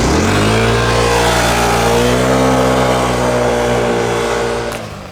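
A Yamaha X-Max scooter engine roars loudly and steadily close by, its revving pitch rising and falling in sustained waves before easing off near the end, with no talking over it.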